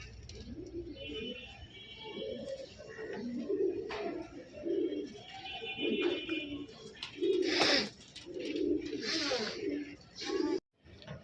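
Giribaz pigeons cooing repeatedly in soft, low rolling calls, fairly close, with a few brief flutters and other bird sounds mixed in.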